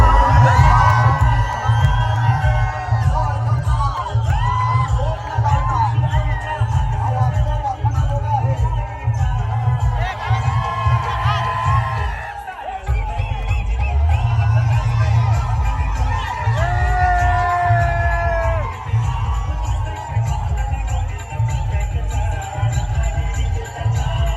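A large outdoor crowd at a Govinda troupe performance in Adivare cheers and whoops, a steady loud roar with yells and shouts rising above it, while someone speaks over the noise.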